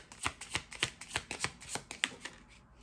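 Tarot cards are shuffled by hand in a run of quick riffling flicks and soft slaps, about a dozen bursts in an irregular rhythm, quiet and close with no voices.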